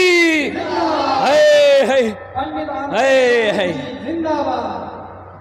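A crowd at a religious speech gathering loudly chants the Nara-e-Takbeer slogan, with rising, drawn-out calls and a booming leading voice answered in repeated waves.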